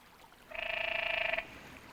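A single canyon tree frog gives a rapid, buzzing trill lasting about a second, loud and close against a quiet background.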